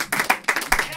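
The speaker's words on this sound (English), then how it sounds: "how about a round of applause?" Scattered audience clapping at a giveaway event, with a few quick claps heard under talk and crowd noise.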